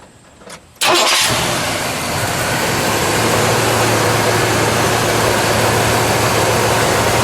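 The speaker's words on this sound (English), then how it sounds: "let's fire it up, shall we? Sure. We'll listen to it idle." A 1975 Chevrolet Chevelle Laguna Type S-3 engine cranks briefly and fires up, then settles into a loud, steady idle that drones on unbroken with no talking.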